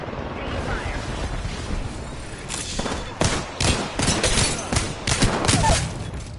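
Video game gunfire comes in bursts of rapid shots over a low rumble, with voices talking under the shooting.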